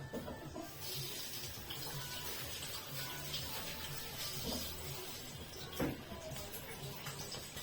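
Hands rubbed together under running tap water at a kitchen sink while making a lemon meringue tart, a steady close splashing flow with faint background hum and no speech.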